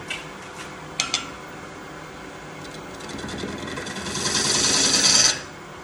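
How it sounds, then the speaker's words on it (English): Lathe gouge hollowing out a Bradford pear wood bowl: a few light taps, then a steady rasping scrape that builds in loudness over several seconds before cutting off, close and without talk. "I'm doing some hollowing here."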